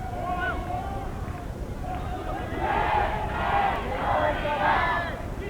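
A crowd, including Korean women supporters, fills the stands at a 1999 men's field hockey Champions Trophy final between Australia and South Korea, with voices swelling into rhythmic cheering and chanting over steady stadium noise.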